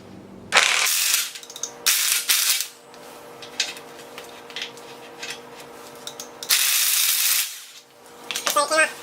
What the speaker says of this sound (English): reverse should take it off when I put the impact on it